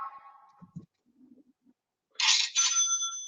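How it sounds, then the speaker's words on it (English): A phone gives off odd electronic tones: a brief high tone, a few soft blips, a pause, then two loud, bright ringing bursts with sustained high pitches near the end. "my phone is making all sorts of weird noises"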